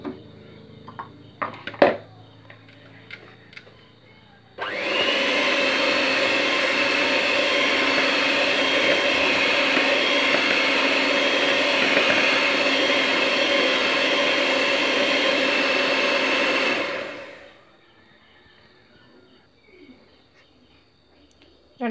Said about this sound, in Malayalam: ഇതിനെ നമുക്ക് ഹൈ സ്പീഡിലിട്ട് ബീറ്റ് ചെയ്തെടുക്കാം.